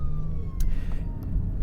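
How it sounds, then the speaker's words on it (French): A siren from an ambulance passes along a city street blocked by a large bus, its steady wailing tone heard under heavy low traffic rumble and street noise. "je vais m'éloigner un petit peu de cette ambulance là qu'on n'entende plus"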